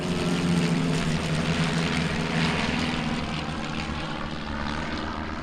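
Several propeller airplanes fly close together in formation at an airshow, a loud, steady engine drone that holds throughout with no voices.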